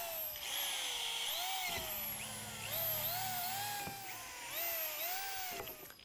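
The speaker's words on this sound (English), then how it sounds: "Use a 1/4-inch drill bit to make 5 evenly spaced pilot holes." A power drill with a 1/4-inch bit bores pilot holes through halfpipe coping into a stud, whining in several rising bursts with brief pauses between them, close and fairly loud with no talking.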